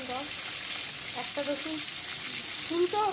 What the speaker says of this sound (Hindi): अब मैं फिश को फ्राई कर लूँगी।